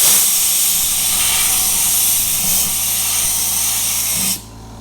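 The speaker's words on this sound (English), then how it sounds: "I am loving my California Air Tools air compressor. This is how loud it is." California Air Tools air compressor hose blowing air to spin a paint polishing pad, a loud continuous close hiss that cuts off abruptly near the end.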